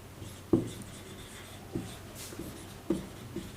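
A pen writes by hand on paper during a translation lesson, producing soft scratchy strokes with a few sharper taps as words are marked, heard close and quiet.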